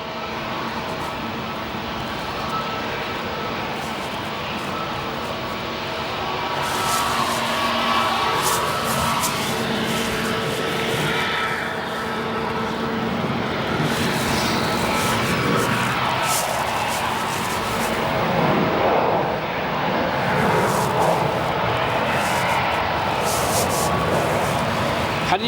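An Atlas Air Boeing 747 departing O'Hare Airport builds into a broad, rising jet roar that swells and lingers in the distance, with people talking over it.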